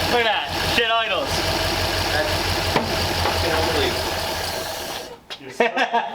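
A 1934 Ford Delivery engine idles close by with a steady, slightly rough chugging rumble, while people talk over it and the engine note briefly cuts out near the end.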